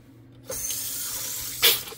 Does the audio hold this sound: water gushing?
yes